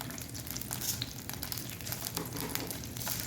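Mustard seeds and cumin seeds frying in hot oil for a drumstick masoor dal, a steady close crackling sizzle with scattered pops and spits throughout, no voices.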